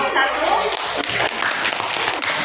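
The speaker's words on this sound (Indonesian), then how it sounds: "Kasih tepuk tangan buat kelompok" Classroom applause for a student group, a dense, steady patter of many hands clapping together throughout, with voices mixed in.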